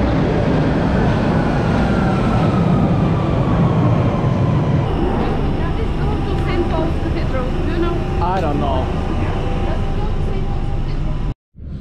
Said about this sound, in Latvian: es esmu vilcienā uz lidostu